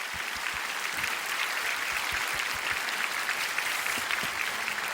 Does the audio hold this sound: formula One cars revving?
no